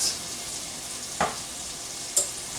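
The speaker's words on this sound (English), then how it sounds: "Just give that a little stir, let that cook down." A seasoned mixture with pepper and salt cooks in a pan for a tomatillo dish while a spoon stirs it, giving two brief scraping strokes over a steady soft sizzle.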